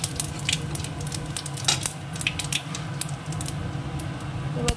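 Dried red chillies and cumin seeds sizzle steadily in hot oil in a pan, a constant close crackling hiss with a few faint clinks of utensils and no talking.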